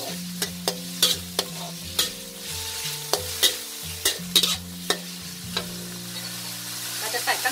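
Chicken and noodles stir-fried in a wok, with repeated sharp clanks of a spatula against the pan in an irregular rhythm over a soft sizzle, quiet and close.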